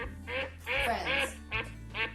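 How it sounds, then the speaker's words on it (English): A duck quacks in a farm setting, four or five clear nasal quacks in quick succession, close and alone. "who's making noises now? It's the duck."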